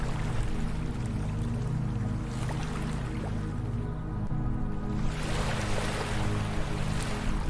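Soothing ocean waves washing onto a beach, a steady broadband wash with a swell surging louder near the end, mixed with a low sustained musical drone throughout and no voices.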